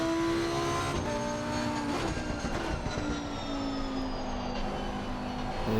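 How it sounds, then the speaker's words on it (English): A Lamborghini Huracan V10 racing at Brands Hatch in the game Assetto Corsa Competizione: the engine's tone sweeps high as it shifts, fairly faint and continuous, with no talking. "Love the sound of the V10 in the Huracan."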